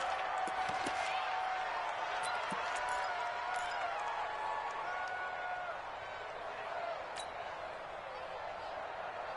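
A large stadium crowd in an American football video game roars and murmurs continuously during a 2-point conversion, with scattered whoops and claps rising out of the steady noise.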